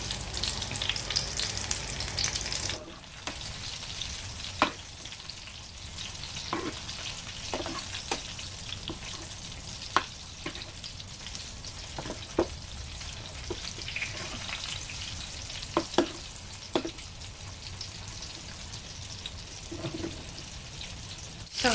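Chicken cheese balls coated with oats frying on a low flame, a steady bubbling sizzle of oil with scattered pops and crackles, close and continuous, after a brief louder opening burst.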